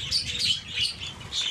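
Cockatiels give high, rapid chirps in three quick bursts, close and bright, with a low murmur of background noise and no clear talk.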